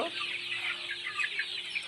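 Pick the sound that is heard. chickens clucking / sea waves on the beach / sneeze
chickens clucking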